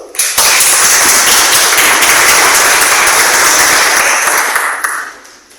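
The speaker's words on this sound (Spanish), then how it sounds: "hacémosla por favor con un caluroso aplauso" An audience breaks into warm applause to welcome a speaker at a conference, dense and loud from the start, holding steady before tapering off near the end, with no talking.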